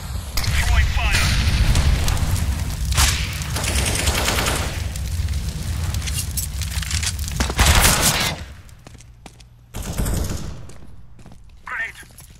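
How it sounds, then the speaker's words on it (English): Grenade blasts and gunfire in a CS:GO match, with heavy booms and rapid bursts of shots crowding the first eight seconds, then quieter gaps broken by a few sharp single reports. "I'm throwing a grenade."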